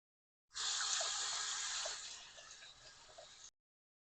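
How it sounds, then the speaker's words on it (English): Hands washed under a running kitchen tap, steady splashing water that starts suddenly, softens as the hands move through the stream, then cuts off sharply. "Wash the hands again."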